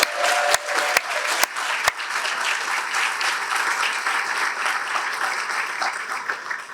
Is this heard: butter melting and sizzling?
no